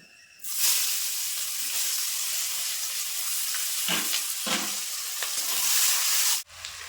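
Chopped onion goes into hot oil already holding bay leaf and whole garam masala and bursts into a loud, sustained sizzle after a quiet start, with a couple of stirring scrapes and a sudden drop at the end.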